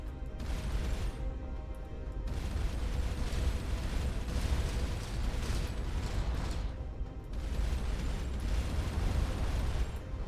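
Heavy, continuous blasting and booming in the space game Starcom Unknown Space as ship weapons pound enemy vessels, a dense rumbling barrage with repeated bursts throughout and no pauses.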